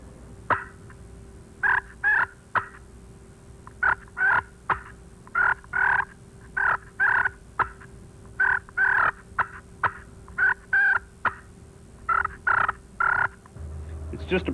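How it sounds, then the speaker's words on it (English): Soft clucks and rolling purrs of a wild turkey hen in spring, a steady series of short, evenly spaced calls repeated over about fifteen seconds, close and moderately loud with no talking. "Soft little seductive clucks and purrs."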